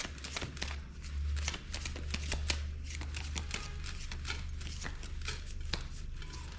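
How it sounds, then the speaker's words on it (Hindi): Tarot cards being shuffled by hand during a reading, a steady run of soft riffling and flicking card sounds with brief sharper snaps, close and continuous, with no talking. "मैं कर लेती हूँ कार्ड की शफलिंग।"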